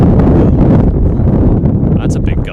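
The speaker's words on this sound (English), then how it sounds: "That's a big gust of wind." Strong gust of wind buffeting an outdoor microphone at a girls' soccer championship match, a loud continuous low roar throughout, with faint distant voices and shouts from the field beneath it.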